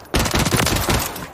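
Rapid rifle shots in single-fire mode crack out in a dense, loud burst from Call of Duty Warzone, the reports nearly merging into a continuous barrage over about a second.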